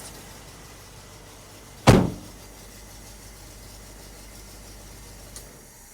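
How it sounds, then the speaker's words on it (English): A 1985 Toyota pickup truck engine is switched off. A soft idle hum gives way to a single loud clunk, and a quieter click follows a few seconds later. "Let me shut the truck off and we'll talk about what's next."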